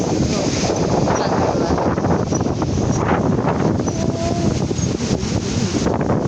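Strong, steady wind roars across an open outdoor spot at night, a dense continuous rush with gusty buffeting against the microphone and no break throughout, with faint voices occasionally underneath.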